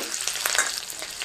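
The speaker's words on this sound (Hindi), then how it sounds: "यहाँ पर जीरा डाल दी हूँ, यहीं पे कटी हुई मिर्च प्याज डाल देते हैं।" Chopped chilli and onion hitting hot oil with cumin in a pan, a bright crackling sizzle with quick pops and stirring scrapes, close and continuous.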